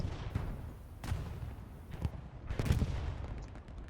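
Video game firefight in a tournament match in a town center, with several sharp gunshots and short bursts popping at irregular intervals, fairly faint and distant.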